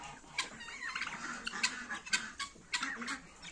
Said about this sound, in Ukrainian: Тут у нас курочки.